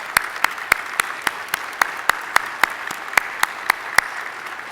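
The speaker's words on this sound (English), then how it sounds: "Let's have a round of applause." Evenly spaced, crisp hand claps from an audience at a chamber of commerce annual meeting repeat at a steady rhythm against a soft background hiss.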